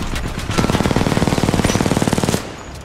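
Turret machine gun fire in the Titanfall 2 campaign: a rapid, steady burst of evenly spaced shots lasting about two seconds, loud and close over the game's background noise, with no talking.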